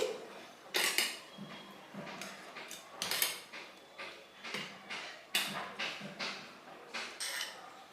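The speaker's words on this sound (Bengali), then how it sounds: "মশলার সঙ্গে ভালো করে ইলিশ মাছগুলোকে মিশিয়ে দিচ্ছি" Pieces of hilsa fish are mixed with spices in a dish, making intermittent clinks and scrapes of a utensil against the bowl, with irregular bursts of close handling noise and quiet gaps between.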